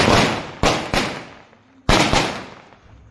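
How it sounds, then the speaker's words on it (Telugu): Firecrackers burst outdoors on New Year's night, four sharp loud bangs at uneven intervals, each ringing out in a long echoing decay across the surroundings. "బాంబులు పేల్చేస్తున్నారు."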